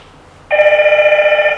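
A smart home doorbell chime in a home-automation setup, a loud electronic tone that sounds abruptly and holds steady with a slight pulsing warble, close and clear with no talking.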